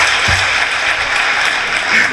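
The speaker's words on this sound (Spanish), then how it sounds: "Fuerte el aplauso, por favor, a mi compadre" Audience applause at a live comedy show in Mexicali, a steady dense wash of clapping filling the room at close range, with a brief low thump near the start.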